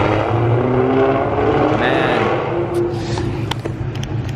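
A Shelby Cobra with a 5.0 engine runs close by, a steady, throaty rumble with a brief rising rev in the middle and a few sharp clicks near the end.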